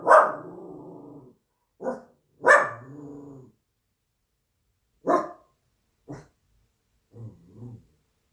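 A dog barks in a series of separate woofs, some sharp and some drawn out, close by, ending in softer grumbling yips with silence between.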